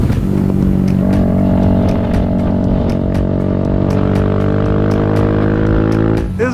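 A race-spec motorcycle on a track, its engine close and loud with a steady, high-revving drone that holds and builds slightly before dropping away at the end.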